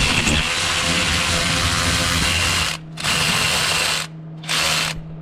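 A socket wrench loosens a 10 mm bolt on the radiator fan of a Pontiac Vibe / Toyota Matrix, giving a close, loud, steady buzzing whir in three runs split by two short pauses, with no talking.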